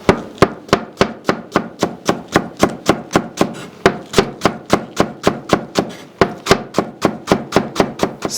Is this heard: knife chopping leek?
yes